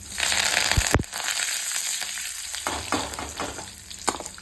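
Curry leaves hit hot oil for a beetroot fry and burst into loud, close sizzling and crackling, with sharp pops and stirring noises throughout.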